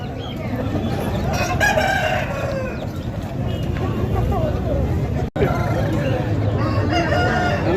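An Aseel rooster crows at a busy Saturday poultry market in Mydukur, its long call rising over steady crowd babble, with other fowl clucking nearby.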